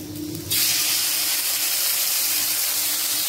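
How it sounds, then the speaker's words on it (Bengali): Whole cumin, turmeric, Kashmiri chilli powder and ground cumin hit hot oil and burst into a loud, steady sizzling hiss that holds evenly after a short quieter start. "কষতে দিয়েছি মশলা"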